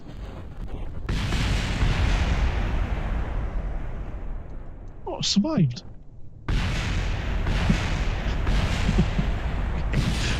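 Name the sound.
rocket explosion in Kerbal Space Program video game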